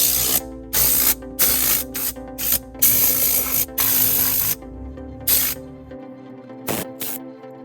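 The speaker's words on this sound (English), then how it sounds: "I'm just gonna blow everything out real quick" Short, loud bursts of compressed air blast debris out of a car interior and off the seats, coming in repeated on-off pulses with brief pauses between them and a faint hum underneath.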